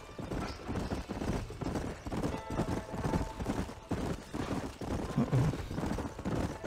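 Horse hooves galloping in Red Dead Redemption, a steady rapid clip-clop rhythm running throughout at moderate distance, with occasional snorts.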